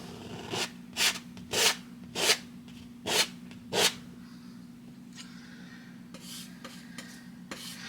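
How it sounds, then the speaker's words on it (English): Painting knife scraping oil paint across a canvas in a mountain landscape, six close rasping strokes at a steady rhythm followed by fainter lighter scrapes over a low background hum. "I had a recent commenter comment about they like hearing that knife scrape"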